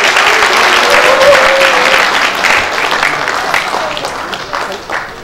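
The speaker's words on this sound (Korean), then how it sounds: "귀한 시간을 내주신 우리 국회의원님들께 큰 박수 한 번" Audience applause for members of parliament at a national rally of metropolitan council members, a steady dense wash of clapping from a large indoor crowd that gradually thins toward the end.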